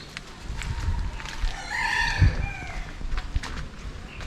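A rooster crows outdoors in a Ratnagiri village, one long rising call in the middle of the clip, with soft rustling and a brief thump nearby.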